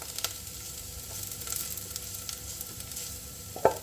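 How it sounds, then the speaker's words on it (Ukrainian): Chopped onions frying in a pan give a steady, soft crackling sizzle throughout, with a small pop near the end; close and fairly quiet, with no voices. "Наша цибулька вже підсмажилася."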